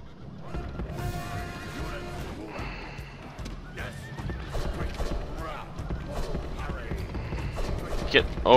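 Horses in the Rome: Total War video game neigh and whinny repeatedly amid clip-clopping hooves and battle clatter, with someone talking over the din.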